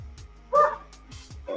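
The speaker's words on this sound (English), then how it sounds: "that's my dog, y'all." A pet dog gives a short close yip-like bark amid faint background noise, followed by a softer second whimpering bark.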